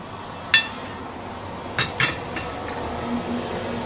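A spoon clinks against a pot while grape seeds are scooped out of the liquid, a few light metallic taps, one then a close pair and softer ticks, over quiet room noise.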